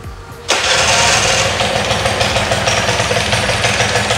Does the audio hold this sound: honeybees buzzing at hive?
no